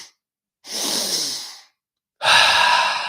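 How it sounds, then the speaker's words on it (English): Deep, forceful breaths taken during a guided breathwork exercise for mountain athletes, two long airy exhales at close range separated by silence, the second louder than the first, with no talk. "Let's take 3 more breaths."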